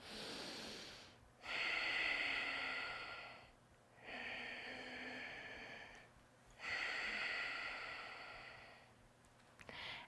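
Ujjayi yoga breathing through the nose, with three long, even breath cycles. Each has a close, oceanic, throaty hiss that swells and falls away, separated by short quiet gaps.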